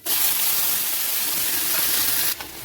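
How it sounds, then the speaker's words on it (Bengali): Nigella seeds and onion paste hit hot oil with a loud, dense sizzle that hisses steadily close up, then dips briefly near the end before surging again. "এবার ওই তেলের উপরে আমি কালো জিরে দিয়ে দেবো কাটুন, পেঁয়াজের পেস্টটা দিয়ে দেবো।"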